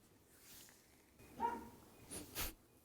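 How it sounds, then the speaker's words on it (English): A dog gives a few short, muffled barks at a comic convention, quiet and held back, in two or three soft bursts over low background noise. "She tries to muffle her barks now."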